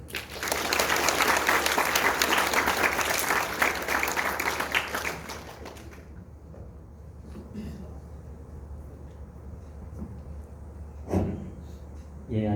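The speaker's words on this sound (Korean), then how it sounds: "큰 박수로 맞이해 주시기 바라겠습니다." Sustained audience applause welcoming a guest lecturer at a special talk held at a youth detention centre, loud and steady for several seconds before stopping, followed by quiet room noise and a couple of knocks.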